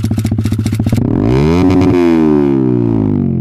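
Up close and loud, a Yamaha XSR 155 fitted with a Yoshimura R77 420mm exhaust idles with a rapid, lumpy burble, then is revved hard so the pitch sweeps up and slowly falls back.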